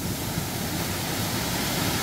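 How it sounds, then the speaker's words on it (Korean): The Simwon waterfall in a rocky gorge on Dojangsan, Mungyeong, roars as a steady, dense rush of falling water, loud and unbroken, with no voices over it. "바로 이것이 심은 폭포입니다."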